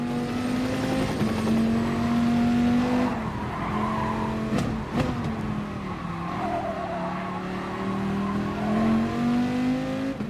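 Race car engine in Gran Turismo Sport at the Bathurst circuit, droning loudly and steadily with shifting pitch through gear changes, joined by brief tyre squeals in the middle and a continuous roar throughout.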